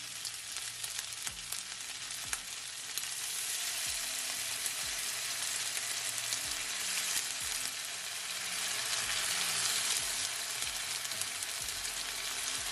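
Chicken pieces fry and brown in hot oil for a chicken stir-fry, giving a loud, continuous sizzle with faint crackles throughout and no voices.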